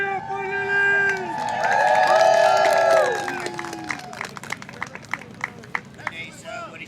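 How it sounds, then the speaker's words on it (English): Crowd at a Space Coast Renaissance Fair joust cheering loudly with whoops and a rising roar, then fading into scattered claps and shouts, with a voice calling out over it. "Once again, a cheer for Lily!"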